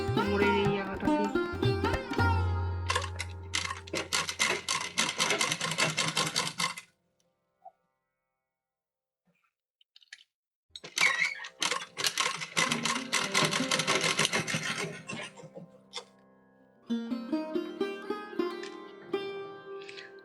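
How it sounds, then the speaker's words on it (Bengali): Sewing machine stitching a red doll's dress for a Laddu Gopal figure, running in fast, steady bursts with a long silent pause in the middle before stitching resumes. "ডবল করে এইখান দিয়ে সেলাই করতে শুরু করব"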